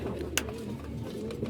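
Domestic pigeons kept in a loft, fed rice, wheat and maize, coo in a low steady murmur throughout, with one brief sharper sound partway through and no voices.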